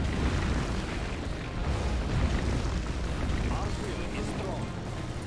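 Detonation in Command & Conquer Generals, a dense, low, continuous rumble of explosion and battle noise throughout, fairly faint in the mix, with a person talking over it.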